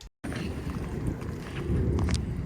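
Strong wind blows through trees on a windy day in the UK Midlands, a dense, steady rushing roar with a louder gust near the end and a brief dropout at the start.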